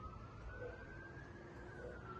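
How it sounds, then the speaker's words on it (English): Faint fire department sirens wail far off, heading toward a forest fire, a thin rising-and-falling tone drifting over a low background rumble. "Those sirens you hear in the background is the fire department."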